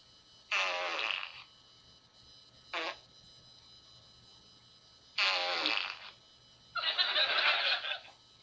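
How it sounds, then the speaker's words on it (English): A large fart followed by a smaller one, among a few separate flatulent bursts with quiet gaps between them, close and fairly loud with no talking. "First, you're gonna hear a large fart. Then second, you're gonna hear a small fart."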